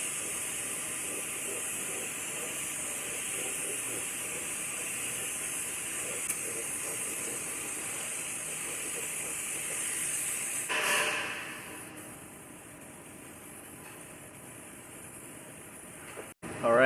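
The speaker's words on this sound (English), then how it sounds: "I'm going to coat all of this with a coat of epoxy primer" A spray gun lays epoxy primer onto a Ford F150 truck frame. A continuous close hiss runs for about eleven seconds, then drops away to quieter background.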